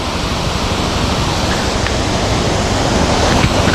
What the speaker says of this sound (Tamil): எவ்வளோ தண்ணி மேலேருந்து அப்படி கீழே அப்படி அப்படிக்கிட்டு போகுங்க